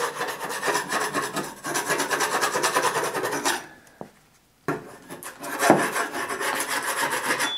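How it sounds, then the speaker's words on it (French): A painter's knife scrapes blistered paint off a surface in steady, continuous rasping strokes, close and fairly loud, with a brief pause midway before the scraping resumes. "C'est là où le couteau de peintre est très efficace."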